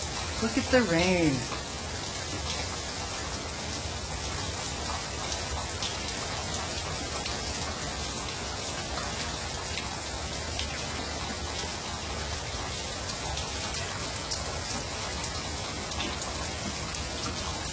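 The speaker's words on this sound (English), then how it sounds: "Look at the rain." Steady, dense atmospheric-river rainfall hisses continuously, with close patters on a surface; a person speaks briefly at the beginning.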